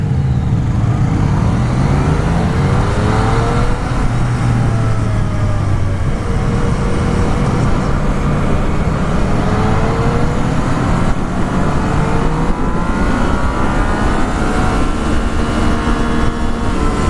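A Yamaha FZ-09 motorcycle engine pulls through the gears. Its steady, close drone rises and falls in pitch with each shift, loud and unbroken, with no voices.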